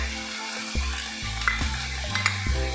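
Ginger, garlic and green chilli paste sautéing in a hot pan, a dense close sizzle broken by a few stirring scrapes and small pops.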